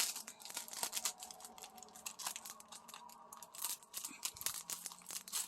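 Close, crinkly plastic rustling and tearing with scattered crunchy snaps, continuous and fairly quiet, with no talking.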